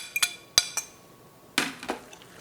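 Beaten eggs for a spinach and feta quiche being mixed in a dish, heard as a few sharp, irregular clinks of a utensil against the dish with quiet gaps between them and no voices.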